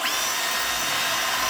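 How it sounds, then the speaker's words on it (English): A power drill bores steadily through the bottom of an electrical enclosure to make a hole for a cable gland while an EV charger is fitted, a loud, continuous high whine with no pauses. "I'm going to drill the bottom out for my stuffing gland."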